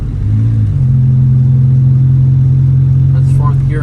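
A B18C1-powered Acura Integra with an ACT clutch and lightweight flywheel pulling in fourth gear, its engine note jumping up and holding a loud, steady drone from inside the car, with brief speech near the end.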